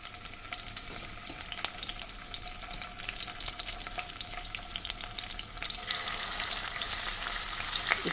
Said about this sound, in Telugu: ఈ చేపలు మంచిగా గోల్డ్ కలర్లో వేయించుకోవాలి.